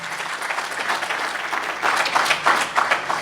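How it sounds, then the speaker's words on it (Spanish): A church congregation claps loudly for the Lord during a sermon, a full roomful of hands building in strength toward the end with sharper, more rhythmic bursts of clapping and no voices on top. "Dale un aplauso al Señor más fuerte."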